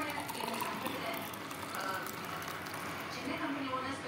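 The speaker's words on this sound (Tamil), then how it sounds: "இப்போ இதை கிளாஸில் ஊற்றிக்கலாம்" Beetroot juice poured into a glass, with a continuous close liquid trickle and gurgle filling the moment while a person talks over it.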